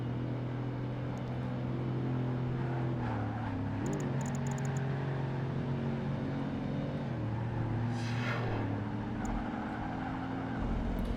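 An Ascari race car in Project Gotham Racing 2 drones with a steady engine note that shifts pitch a few times as it changes gear, with faint other effects under a continuous game mix.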